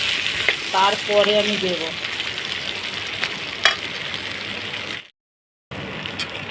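Taro pieces frying in a pan make a continuous crackling sizzle with occasional stirring scrapes, while someone briefly speaks over it; the sound cuts out for a moment near the end.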